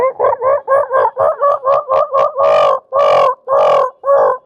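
Someone imitates a hen's pre-laying clucking, a steady run of quick clucks that stretch into longer, louder drawn-out calls near the end, close up.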